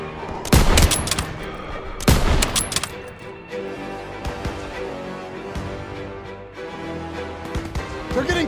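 Gunfire in the Call of Duty WWII Stronghold mission, with two loud sharp bursts near the start and shots continuing beneath a busy, dense battle mix through the rest.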